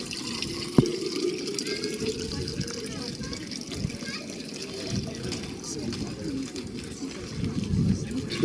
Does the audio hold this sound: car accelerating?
no